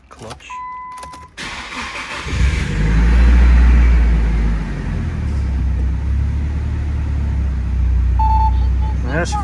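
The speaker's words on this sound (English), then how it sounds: "she fires up like a full normal car" A few clicks, then the engine of a 1999 Nissan S15 Silvia Spec R cranks and roars to life close by, settling into a steady rumbling idle.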